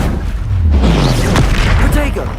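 Confringo spell blast in the Hogwarts Legacy video game: a loud, booming fiery explosion that fills the moment, rumbling heavily and lingering as it rolls off, with a spoken voice mixed in.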